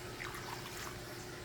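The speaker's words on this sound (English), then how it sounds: "Put some more water in there." Water is poured into a pot holding mackerel for a Jamaican rundown, a faint, steady trickle lasting barely a moment.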